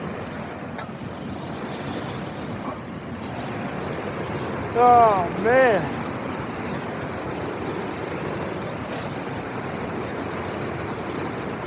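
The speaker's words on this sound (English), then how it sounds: "it's still the breeze, man. The wind. It's rough." Cold outdoor wind buffets the microphone with a constant rough rumble by a small creek while catfishing in 29-degree weather, as someone briefly speaks midway.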